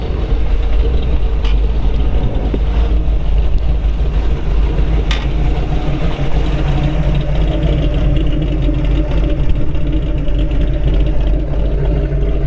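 A 1968 Ford Bronco 4x4 off-road resto-mod sits running, its engine a loud, steady, low rumble heard up close for the whole stretch with no talking.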